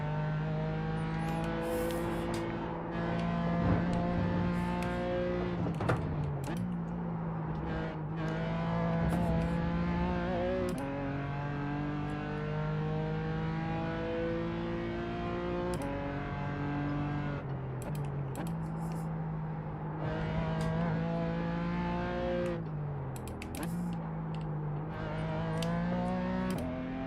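A race car drives through wet corners in a racing video game, with a sustained engine whine whose pitch climbs and drops through repeated gear shifts and throttle changes across a long stretch, steady and loud.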